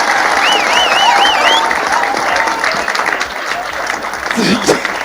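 At a Hindi comedy poetry gathering, an audience claps in a loud, dense burst of applause that carries on throughout, with a whistle and a few shouts mixed in.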